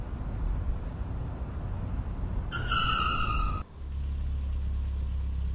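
A car skids with a sharp tire screech in the horror video game Darkest Wood 2, the squeal lasting about a second before cutting off abruptly into a low rumble, heard over a steady dark ambient drone.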